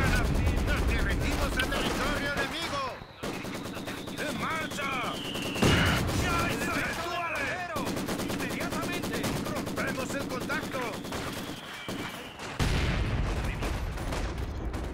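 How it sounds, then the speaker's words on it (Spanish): Dense machine gun fire from a house position in the wartime strategy game Company of Heroes 2 rattles in rapid bursts over a constant din of battle, with dull booms and occasional whistling shells, while someone commentates throughout. "Tirándole a esa ametralladora de la casa"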